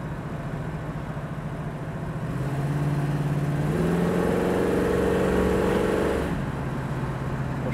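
A 1968 Chevrolet Camaro SS engine drones steadily while driving, its tone rising in pitch as the throttle opens and holding a higher note before settling back to a lower cruise.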